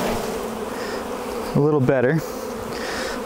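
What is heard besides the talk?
honey bees buzzing as bees are shaken off a hive frame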